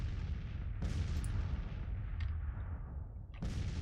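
Cannon fire from an artillery battery in the Civil War strategy game Grand Tactician, several deep booming blasts with rumbling decay overlapping into one another, heard at a distance with no voices.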